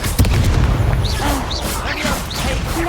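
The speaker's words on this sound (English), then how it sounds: "Confringo!" A Confringo fire spell in Hogwarts Legacy bursts with a heavy boom, followed by crackling magical whooshes and chirping effects in a busy game battle while a voice speaks over the start.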